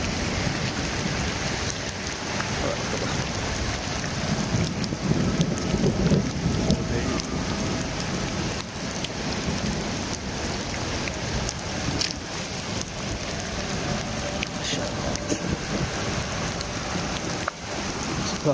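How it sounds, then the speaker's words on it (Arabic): A thunderstorm over Fujairah in the UAE, heavy rain pouring steadily with low rumbling thunder rolling underneath, loud and continuous throughout. "لكم بسمعوا صوت الرعد."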